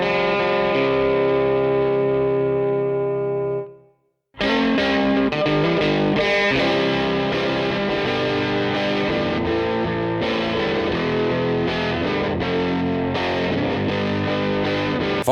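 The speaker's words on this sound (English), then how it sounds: "using a Vox amp that was actually a house amp for the famous Cavern Club in Liverpool. Vox AC30." Distorted electric guitar through a vintage Vox AC30 amp playing a song, loud and continuous with dense sustained chords, a brief drop to silence around four seconds before the full sound resumes.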